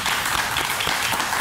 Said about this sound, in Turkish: Bak bir alkışlayın.